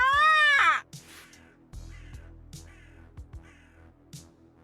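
A bird caws in the video game Yaga: one loud, harsh call opens the clip, then falls away to a quiet backdrop of soft, sparse game sounds.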